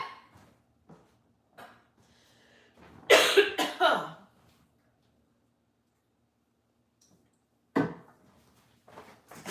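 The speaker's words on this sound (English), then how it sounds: "I just cannot get rid of this cough." A person with a lingering, hard-to-shake cough lets out a cluster of harsh, close coughs in a quiet room, followed several seconds later by one more short cough.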